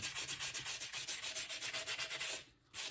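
Rapid, rhythmic sanding strokes smooth a mannequin head being made into a planter, with a steady back-and-forth rasp close up and a brief pause near the end.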